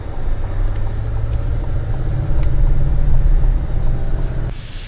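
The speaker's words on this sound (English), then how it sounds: "you caught me in the middle of the car wash" An automatic car wash runs around a pickup with a hard roll-up tonneau cover, a loud continuous low rumble and churning of machinery heard from inside the cab, swelling midway and cutting off at the end.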